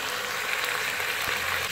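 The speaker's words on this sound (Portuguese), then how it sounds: "Não mexe, pode deixar ele fritar bem." Steady, dense sizzling of chicken frying in hot oil, a continuous crackling hiss without any speech.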